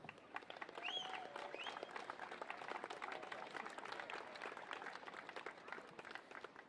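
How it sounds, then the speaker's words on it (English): Spectators at an outdoor men's singles tennis final in Stanley Park give a sustained round of applause, a soft, fairly distant patter of many hands, with birds chirping faintly in the background. "let's give another round of applause for our competitors today"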